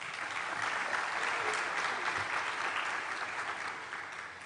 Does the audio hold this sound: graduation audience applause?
yes